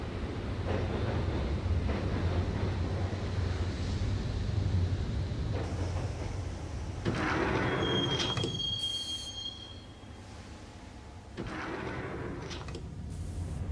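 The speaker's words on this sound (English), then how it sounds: "the train doors had already shut behind me, and I was in for the ride" A subway train in the Max Payne video game rumbles along the rails toward a station, a loud continuous roar with shrill wheel squeals rising over it midway, heard alone without talk.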